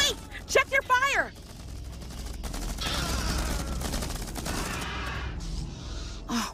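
Bursts of rapid gunfire in the sci-fi strategy game Starship Troopers: Terran Command, a crackling fusillade in the middle stretch with shouted voices and gasps at the start and end.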